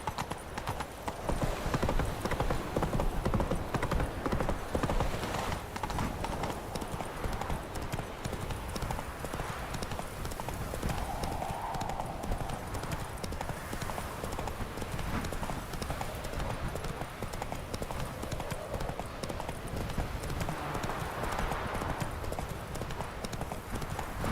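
Steady clip-clop of the horse Roach's hooves in The Witcher 3, a continuous trotting rhythm running close and clear for the whole stretch, with faint ambient game sound underneath.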